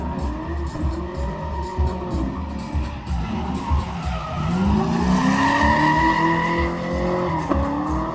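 Drift car at the Moto Show in Kraków sliding with loud, sustained tire squeal and skidding over a roaring engine, the sound rising and falling as the car swings through, with some voices faintly in the background.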